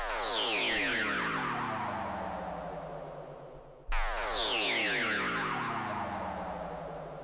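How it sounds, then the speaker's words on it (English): A downlifter synth effect sweeps from a high pitch steadily downward, fading as it falls, then restarts with a sharp jump and falls gradually again; loud, alone, with no voices. "the opposite of an uplifter is a downlifter"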